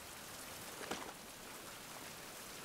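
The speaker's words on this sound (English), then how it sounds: "Looks like rain's still going to bother us, right?" Rain falling in the survival game Survival: Fountain of Youth, a soft continuous hiss of drops on surfaces with one slightly louder patter, steady and faint with no voices.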